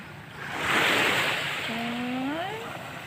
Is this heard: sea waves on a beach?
yes